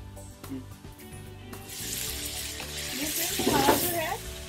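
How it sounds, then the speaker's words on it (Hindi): Chicken karahi with spices is fried in a pan, starting with quiet clatter and then swelling into a loud, steady sizzle, with a voice talking briefly near the end. "इसको अब हमने भूनना है तकरीबन 10 मिनट के लिए।"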